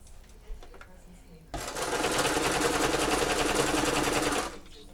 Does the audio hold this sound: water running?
no